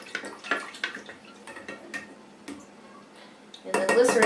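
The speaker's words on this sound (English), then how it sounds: "I'm going to stir it again." A spoon clinks and scrapes against a container while stirring homemade fabric softener made with glycerin and essential oils, in light irregular taps close by, ending in a louder burst of clatter.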